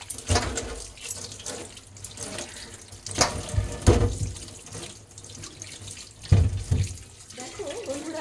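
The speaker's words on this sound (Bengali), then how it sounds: "এবার এটাকে আমি ধুয়ে সাইজ মতো করে" Peeled radishes washed under a running kitchen tap, with a steady stream of water splashing and gurgling in a sink and uneven surges as the vegetables are handled.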